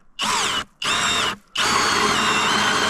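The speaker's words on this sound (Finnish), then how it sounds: "Ja sitten pitää vartaloa vasten tätä porakonetta, eli näin." Cordless power drill boring a hole through ice while ice fishing, with two short bursts of high whirring followed by a longer sustained run, loud and close.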